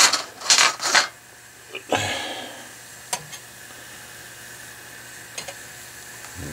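A Trangia spirit stove cooking on a budget pot stand in a basement, giving a faint low hiss and gentle sizzle, with a few louder clanks and rattles of metal pot gear near the start and sparse clicks later.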